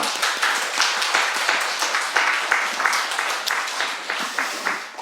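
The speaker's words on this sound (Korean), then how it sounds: "우리 한번 박수하겠습니다" A church congregation claps together after a prayer, a lively run of rhythmic, fairly even hand claps from many people, close and sustained across the whole moment without speech.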